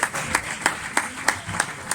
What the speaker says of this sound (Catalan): Podéis seguir aplaudiendo.